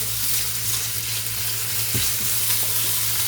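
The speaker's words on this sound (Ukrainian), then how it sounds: "зараз обсмажую ковбасу, цибулю зелену" Sausage and green onion fry in a pan with a continuous close sizzle and crackle, steady and loud, with a faint hum underneath and a small clink partway through.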